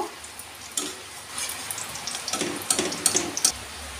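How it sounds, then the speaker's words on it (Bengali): Kuchu nimki, small crisp Bengali flour snacks, frying in hot oil with a soft steady sizzle, plus a few sharper crackles and pops near the end, close by with no talk. "এবার সব শেষ এইগুলো ভেজে নেব।"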